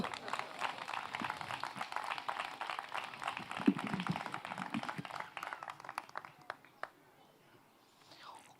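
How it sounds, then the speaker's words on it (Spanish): Audience applause at an LGBTI area presentation by Burlada town council, a dense, fairly quiet patter of clapping that thins out and fades over the last few seconds. "Fuerte aplauso."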